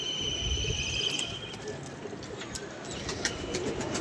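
Pigeons at a Lahore pigeon-keeping loft coo softly in low, throaty bursts. The sound is steady, with some faint chirps and light outdoor noise, and no one speaks.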